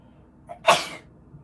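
A single sharp sneeze, preceded by a brief intake of breath, close and alone against near silence.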